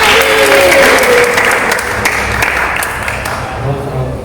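Audience clapping during a financial management training session, a loud burst that slowly fades, with a few sharper individual claps and some voices in the background.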